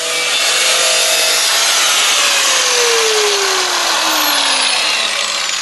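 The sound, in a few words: angle grinder cutting metal on a car oil pan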